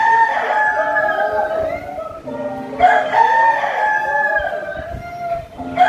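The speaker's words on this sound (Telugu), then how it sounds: "రోస్టర్. కోడి పుంజు." A rooster crows twice in succession, each call a loud, drawn-out cock-a-doodle-doo with a falling tail, played during a first-grade classroom animal-sounds activity.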